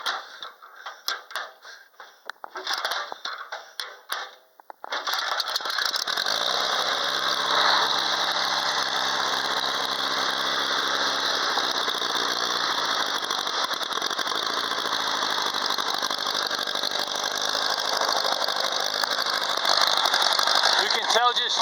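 IH Farmall A or Super A tractor engine cranking briefly, then catching and running steadily and loud with uneven popping from poor fuel delivery, a high squealing whine riding over the engine throughout.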